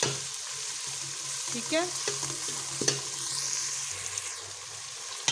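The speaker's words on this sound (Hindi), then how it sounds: "अब इसको अच्छे तरीके से मैं भून लूँगी, भून के तो मैं इसमें डालूंगी गोश्त" A tomato meat masala sizzles and fries steadily in a pan, with a spoon scraping and stirring through it. Someone speaks briefly over the cooking.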